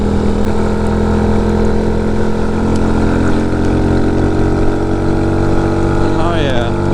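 Loud, droning engine roar with a throaty exhaust tone, sustained and close, rising in pitch near the end as it accelerates.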